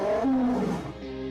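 Wolf-like beast growling as a story sound effect, a single deep rumbling snarl that swells loudly, then trails off into a lower sustained growl, heard alone without talk.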